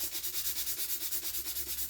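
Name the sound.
sanding with 220 grit sanding sponge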